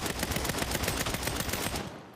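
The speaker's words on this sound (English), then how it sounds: "who's shooting me?" Rapid automatic gunfire in a video game, a dense burst of closely spaced shots that ends abruptly after about two seconds.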